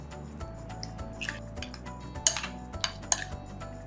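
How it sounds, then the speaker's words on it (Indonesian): Chicken marinating in grated garlic, ginger, soy sauce, salt and egg is stirred in a bowl, giving soft wet squishes and scattered light clinks of a utensil against the dish, fairly quiet and close. "lalu telur, kita aduk rata"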